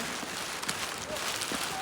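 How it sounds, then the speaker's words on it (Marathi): Heavy rain pours in a dense, steady hiss, close and loud, while someone in a raincoat walks downhill on a mountain path near Triyuginarayan. "भर पावसात उतरतोय खाली"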